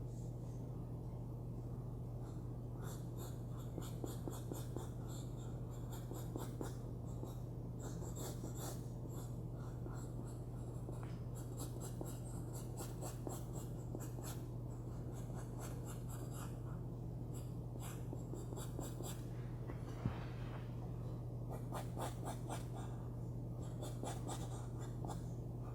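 Pencil or pen drawing a cactus on paper, a steady run of soft scratchy strokes continuing for a long stretch over a constant low hum, with no talking.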